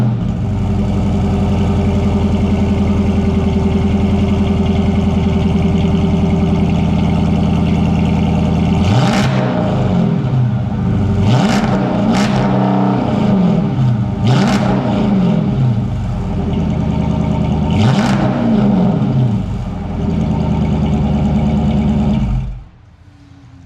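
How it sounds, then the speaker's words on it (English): A 2009 Chrysler 300C with an SLP Loudmouth exhaust idles with a deep steady rumble, then gives several sharp revving bursts that rise and fall before the engine cuts off near the end. "SLP Loudmouth exhaust system on my 2009 Chrysler 300c."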